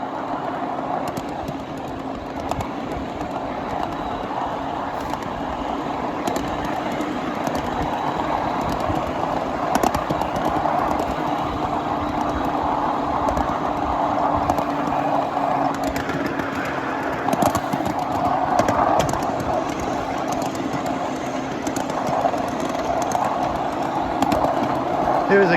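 A 7.5-inch gauge miniature train pulling a flat/tank car along the mainline, a continuous rolling rumble and rattle of wheels on track with a steady hum, close by, for the whole stretch.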